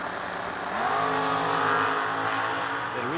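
A drag racing car at World Wide Technology Raceway roars down the track, its engine note rising and swelling loud before easing off, a steady mechanical howl with no talk.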